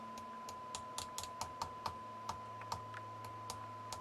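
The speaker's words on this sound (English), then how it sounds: "I'm just going to tap on that relay" Light, quick tapping clicks on the relay of an Onkyo TX-810 receiver amplifier with intermittent output, irregular and soft, over a steady electrical hum and a constant sine-wave tone.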